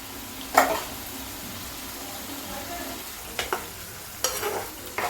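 Spice paste is stirred and fried in a pan for a Bengali shukto, with a low background sizzle and a few sharp scraping stirs of the spatula breaking through at intervals.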